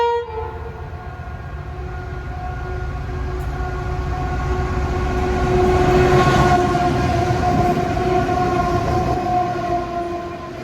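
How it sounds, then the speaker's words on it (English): Heavy 502 class diesel freight locomotives rumble past close by at Sandgate Station on the Hunter Line, engines droning steadily and swelling louder midway, with a sustained horn tone and rolling coal wagon noise. "So these are 502 class locomotives."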